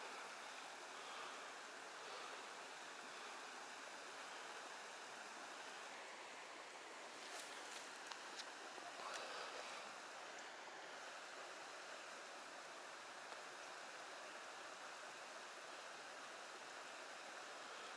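Water pours steadily over rocks at a riverside fishing spot, a continuous broadband rush with a faint brighter splash midway and no voices.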